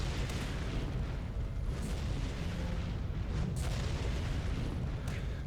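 Rocket launcher fire in the video game City of Heroes: heavy booming blasts over a constant loud rumble of combat, with sharper bursts standing out now and then.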